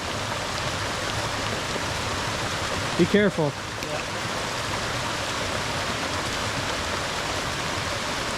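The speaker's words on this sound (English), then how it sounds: "the rain is coming down in huge droplets" Heavy rain pours in large droplets onto an overgrown hiking trail, a dense constant hiss throughout, with a brief spoken exchange partway through.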